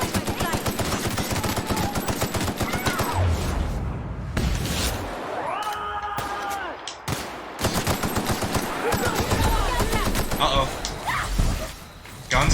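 Sustained automatic gunfire and scattered explosions in the sci-fi shooter The Outer Worlds, dense and loud, with a brief lull midway filled by a rising electronic tone before the shooting resumes.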